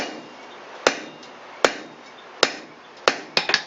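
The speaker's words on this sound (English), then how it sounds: "half hammer face blows, near side anvil with a rounding hammer" Sharp, ringing blows from a rounding hammer land on hot steel at the anvil as a horse-head bottle opener is forged. Four evenly paced strikes are followed by a rapid burst of lighter hits.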